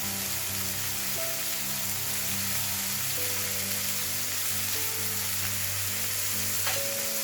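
Garlic sizzles steadily in a hot stone pan while mushroom and chicken sac kavurma cooks, a continuous close frying hiss with a few faint clinks and no talking.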